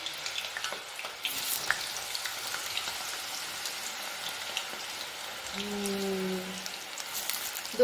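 Food frying in hot oil on its second fry, a steady soft crackling sizzle at moderate distance, with a brief tonal hum in the background late on.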